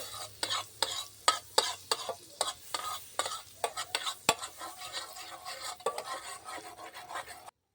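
Food being stirred and toasted in a saucepan with oil and butter, a soft sizzle under repeated rhythmic spoon scrapes and knocks against the pan, close and fairly quiet.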